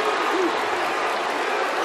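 A college basketball arena crowd applauds and cheers after a foul in a conference tournament quarterfinal, producing a steady, dense wash of clapping that is loud and sustained.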